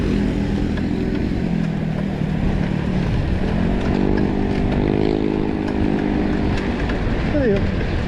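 A motorcycle engine runs close and loud throughout, its tone wavering unevenly as it misfires during a group fun ride, with a rising rev partway through.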